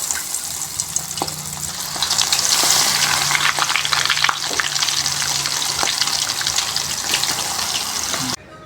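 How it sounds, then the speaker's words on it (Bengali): Oil sizzles and crackles steadily, with a burst of louder spitting early on, then a continuous fry that cuts off abruptly near the end. "এখন মাছ তেলের মধ্যে ঢেলে দিলাম, তেলের মধ্যে।"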